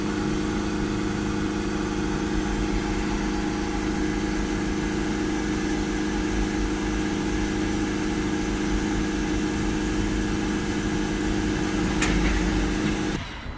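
A car's diesel engine idles through a forced particulate filter regeneration while a differential pressure sensor fault persists, a steady close drone with a constant hum that runs unchanged until it cuts off at the end.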